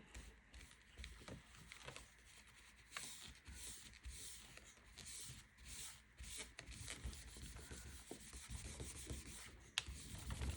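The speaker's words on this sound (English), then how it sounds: "So let me grab my eraser and erase this back down to" An eraser rubs back and forth over pencil marks on paper, a soft, close, continuous scrubbing with brief pauses between strokes.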